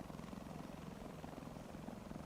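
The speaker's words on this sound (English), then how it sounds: "Oh, it's the helicopter blades." Helicopter rotor blades in War Thunder, a steady and faint chopping whir that runs on unbroken throughout.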